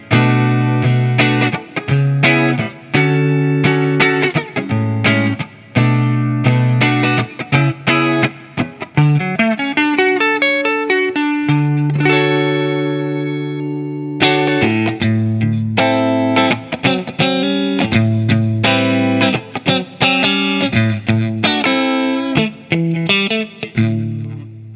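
A GTRS P800 electric guitar, a futuristic Strat-style model, played through effects units with distortion and chorus, giving loud, sustained riffs and chords with rhythmic strummed stabs and a held passage in the middle, no voices.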